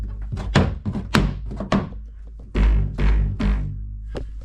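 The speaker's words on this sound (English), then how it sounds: "These straps here, sounds like a guitar." Taut kayak straps plucked several times, twangy resonant low thumps like a bass guitar string, close and distinct, in uneven bursts.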